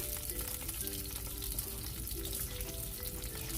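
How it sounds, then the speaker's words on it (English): Bratwurst frying in olive oil in a skillet over medium-high heat makes a steady, fairly loud sizzle with faint tonal clinks and scraping running underneath, and no one speaks. "Add bratwurst. Cook over medium-high heat, turning legs often as they cook."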